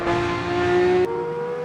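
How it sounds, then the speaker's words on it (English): A Porsche 911 992 race car's engine revs high at Watkins Glen in Assetto Corsa EVO, a steady loud whine holding near its limit, then dropping sharply to a lower pitch as it shifts up. "you hear how high the engine revved there, because fourth was too low and third was too high"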